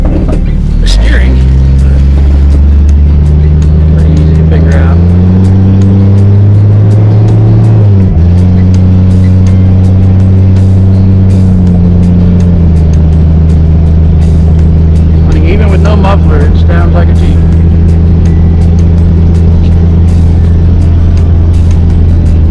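A 1996 Jeep Cherokee XJ on 33-inch tires drives along with a loud, steady engine and road drone that rises and falls slightly, and a voice talks over it.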